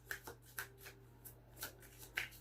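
Tarot cards being shuffled by hand, a series of soft, close riffling bursts repeating at irregular intervals over a low steady hum, with no talking.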